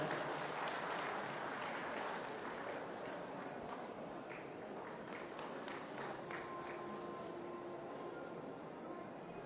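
Sustained applause from an audience at a hospital cancer unit inauguration in Lucknow, a dense steady clapping wash lasting throughout at moderate distance.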